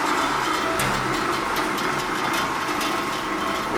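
A used Lee Industries 750 gallon double-motion kettle with a scrape agitator runs as a steady, dense mechanical hum and whir, close and continuous, with faint intermittent clicks.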